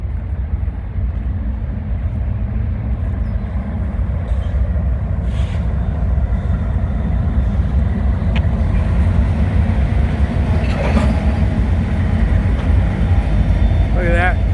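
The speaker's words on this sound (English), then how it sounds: "Look at that brand new locomotive, shiny. It's reared and it's working hard." A brand-new freight locomotive working hard as it passes at Canal Ridge Road, giving a loud, continuous low rumble and engine roar that builds slightly, with faint higher rail squeals near the end.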